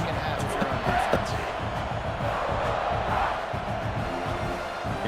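A stadium crowd at a football game roars in a broad, sustained wash of cheering and shouts, with a commentator's voice running over the noise.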